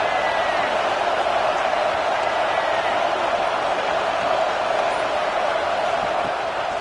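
A college football stadium crowd roars steadily before a third-down red zone play, a broad distant wall of cheering and noise that holds without letup.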